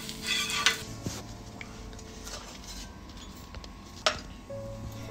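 A thin spinach (paalak) dosa is flipped and cooked on a hot pan, giving scattered scraping and clinking spatula knocks over a faint, steady sizzle, with no voices.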